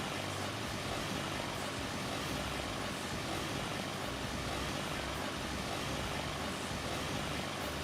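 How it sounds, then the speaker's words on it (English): Propeller airplane engine in Farming Simulator 22 drones steadily and loudly for eight seconds, a dense broadband roar with a low throbbing buzz and no voices. "Well, that's the plane."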